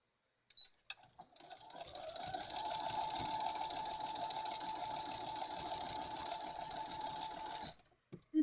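A sewing machine stitches a needle book, a steady mechanical whir that runs continuously for about seven seconds before stopping, with no talk over it.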